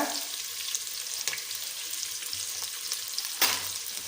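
Sweet pumpkin palya sautéing in a pan, giving a steady close sizzle and fry hiss with soft stirring scrapes throughout and a brief louder scrape near the end; no voices.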